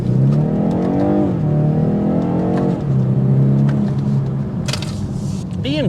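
2023 BMW 430i Coupe accelerating hard through the gears, engine note rising and dropping at each shift, heard from inside the car, loud and continuous.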